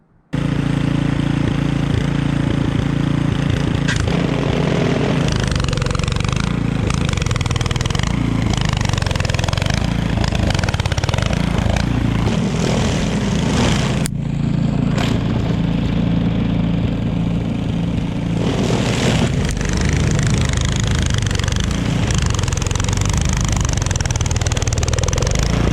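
A Simplicity 1222EE single-stage snow blower engine runs loud and close while pushed hard into wet, heavy snow, its drone steady with brief dips and surges as it strains, no talking.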